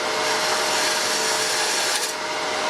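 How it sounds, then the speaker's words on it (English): Parting tool cutting a tenon on a wooden lathe workpiece: a loud, steady, close hissing scrape with an even tone throughout, easing briefly near the end. "Use a parting tool to make the"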